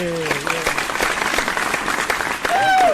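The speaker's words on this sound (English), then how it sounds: "God damn, that crowd is loud" A loud crowd cheers and applauds throughout, dense clapping under scattered whoops, with a voice briefly heard at the start and a sustained shout near the end.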